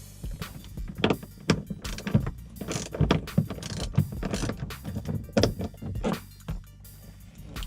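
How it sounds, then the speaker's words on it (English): A 10mm socket and ratchet turns out a bolt holding the A-pillar trim on a 2007-2014 Escalade, Tahoe, Suburban, Silverado or Yukon. Close, repeated ratcheting clicks come in uneven bursts, with no talking. "Use your 10mm socket and ratchet to remove the two bolts."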